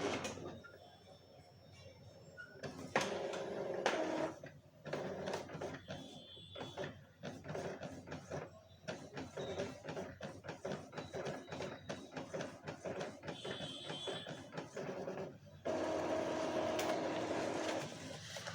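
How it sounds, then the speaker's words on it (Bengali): An Epson L3150 inkjet printer runs a nozzle check page, its ratcheting, gear-driven mechanism clicking and whirring steadily with repeated carriage passes and brief pauses, moderately loud and close, with no talk over it. "প্রিন্ট দিয়ে দিয়েছি দেখুন প্রিন্ট হচ্ছে"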